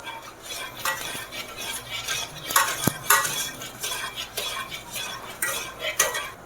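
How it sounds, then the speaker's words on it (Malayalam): A spoon stirs four spoonfuls of cornflour into a coconut pudding mix in a bowl, with no whisk used. Continuous close scraping and clinking of metal against the dish runs throughout, with a few sharper knocks. "ഒരു 4 സ്പൂണ് കോൺഫ്ലോർ, നല്ലോണം മിക്സ് ചെയ്ത് കൊടുക്കണം."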